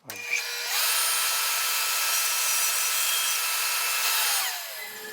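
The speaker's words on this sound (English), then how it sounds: "I'm using my miter here to slice through at this 45 degrees." Miter saw slicing through wood at a 45-degree angle, a sharp whirring motor that spins up, cuts steadily with a rough high grinding for about four seconds, then winds down, loud and close.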